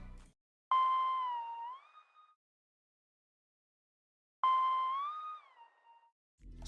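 A Key Analyst synth plays a simple pattern without the Gated Pan mixer preset: two clear sustained notes, each bending upward on a smooth glide, with a silent gap between them.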